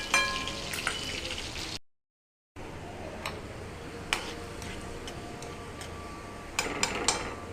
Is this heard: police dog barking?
no